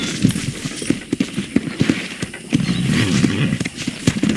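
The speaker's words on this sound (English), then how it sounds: "I picked out a fine horse for you." Horse hooves and neighing in the video game Red Dead Redemption, with close clip-clop steps and snorts in uneven rhythm, fairly loud, and a longer whinny rising partway through.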